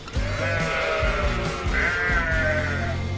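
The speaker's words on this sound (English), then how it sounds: "Did you hear the goats?" Goat bleating sound effects play on a livestream, a quick run of several loud, wavering bleats packed close together over a few seconds, with no talking over them.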